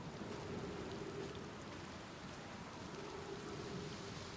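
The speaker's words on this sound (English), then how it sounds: "the rain is like really loud in my ears" Steady rain in the video game Outer Wilds hisses as a dense, even wash of noise, with no voices over it.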